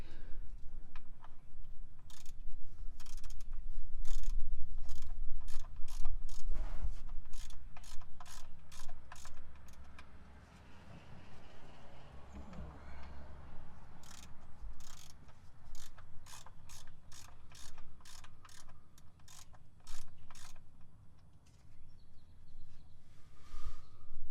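A ratchet wrench on the 17 mm oil drain bolt of a BMW X5 E70 diesel: repeated sharp clicking ratchet strokes in irregular bursts, close and clear, with low mechanical rumble and no talking.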